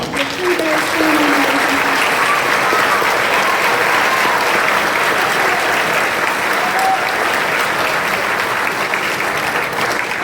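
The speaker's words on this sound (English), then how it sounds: "So if we could please give a round of applause for the recruiters" Sustained applause from a crowd at a Heard County signing day ceremony, steady and fairly loud throughout, with no pauses.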